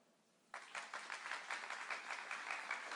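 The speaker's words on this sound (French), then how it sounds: "d'applaudir bien chaleureusement, comme ça par exemple" Warm audience applause at a jazz and slam performance bursts in abruptly after near silence, then continues as steady, fairly soft clapping from a room of listeners.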